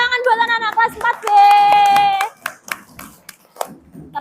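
Fourth-grade pupils in a classroom clap, with sharp, irregular hand claps mixed with children's sung and chanted voices.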